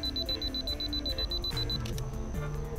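Canon M50 with a Viltrox 23mm f/1.4 lens counts down on its two-second self-timer outdoors: a rapid, evenly spaced train of high, thin beeps for under two seconds, then silence, over a steady tonal background.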